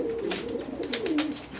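Pigeons nesting in lockers give soft, rolling coos close by, two or three gentle warbling phrases over a low background hum, with faint clicks and no talking.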